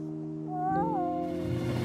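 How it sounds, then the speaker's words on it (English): A cartoon cat gives one clear, rising-and-falling meow, loud and close, over a steady sustained background tone. "No, Kitty, you'll get paw prints all over me"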